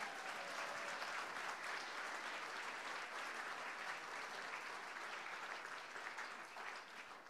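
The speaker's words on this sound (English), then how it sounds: "Give them a clap." Applause from a church congregation greeting members of a local road cycling club: dense, continuous clapping from a whole room that holds steady for several seconds and tapers slightly at the end.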